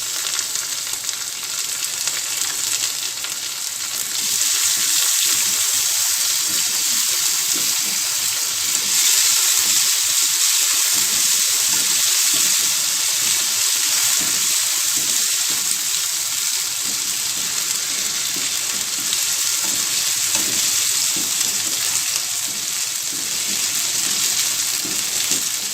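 Soaked, dried urad dal and mustard seeds sizzle in hot oil for a tempering, a loud continuous frying hiss close by that holds steady, with faint crackles and light stirring beneath it.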